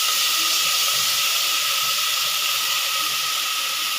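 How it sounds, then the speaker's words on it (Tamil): Onion ginger garlic paste fries in a pan with about three spoons of oil for a chicken and potato curry. It gives a steady, loud, unbroken sizzling hiss close up, with no talking. "ஃப்ரை பண்ணிடலாம்."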